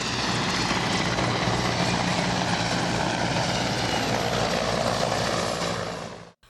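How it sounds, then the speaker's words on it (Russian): Military helicopters flying over Sukhum produce a loud, steady, dense rotor and engine roar that holds constant, then fades and cuts off abruptly at the end. "В небе над Сухумом пролетели военные вертолеты"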